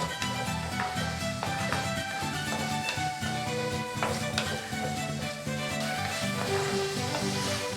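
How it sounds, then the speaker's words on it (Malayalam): A sliced ingredient for a prawn curry with kudampuli sautéing in a pan over medium flame, giving a soft, continuous sizzle and stirring scrapes under steady background music. "നമുക്കിനി ഇത് മീഡിയം ഫ്ലെയിമിലിട്ട് നന്നായിട്ട് സോട്ട് ചെയ്തെടുക്കാം"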